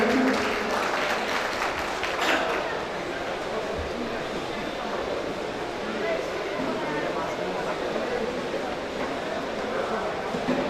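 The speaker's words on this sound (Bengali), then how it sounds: "হ্যাঁ, জোরে হাততালি।" Loud, steady applause from a seated audience at a stage event, a dense wash of many hands clapping continuously with a brief louder surge early on and crowd noise underneath.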